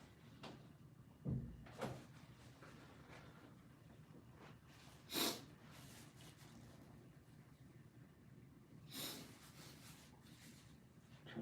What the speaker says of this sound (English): Not to need to blow my nose in you guys' face there.